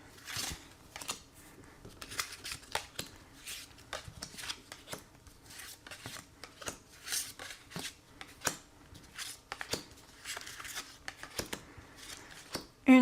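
A deck of cards is shuffled for a card reading, making soft riffling and sliding rustles with repeated crisp snaps, close and fairly quiet over about thirteen seconds.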